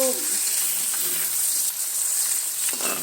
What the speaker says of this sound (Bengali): দুইটা ডিম ভেজে আমি ডিমটাকে তুলে রাখবো দুইটা ডিম আমি দিয়ে দিয়েছি